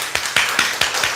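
A church congregation claps during a Sunday worship service, a run of sharp, roughly even claps about every quarter second, close and fairly loud.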